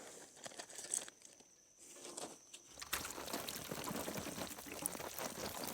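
Water poured from a pink watering can onto a pineapple top planted in a pot, a quiet patter and trickle that starts faint and swells into a steady pour.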